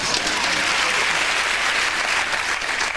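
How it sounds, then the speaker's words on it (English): A British television comedy show's studio audience applauds, a dense, even wash of clapping that holds steady and loud from start to finish with no pauses. "Have a round of applause for that man's"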